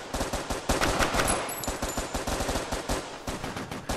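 Rapid gunfire in the Crisis VRigade VR shooter, dense bursts of sharp repeated shots, loud and close, continuing throughout with little pause.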